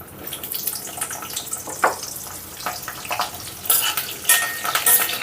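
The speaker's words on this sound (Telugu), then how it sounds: "ఈ ముక్కల్ని ఒక యాభై శాతం ఫ్రై చేసుకుందాం" Pieces of drumstick fry in hot oil for a tomato curry, a close crackling sizzle with bursts of spattering and stirring scrapes that grow louder toward the end.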